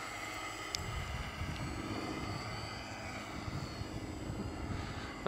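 A model airplane engine buzzes faintly at a distance, a thin steady drone with some low rumbling underneath.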